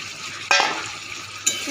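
Fried gathi pieces hitting a pan of leftover fish oil set off a sizzle, with two sharp clinks of the spoon against the pan as the mix is stirred, close and moderately loud.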